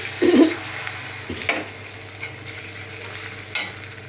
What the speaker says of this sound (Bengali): পেঁয়াজটা লাল হয়ে গেছে, পানি দিয়ে দিলাম